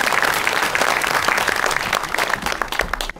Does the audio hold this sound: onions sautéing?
no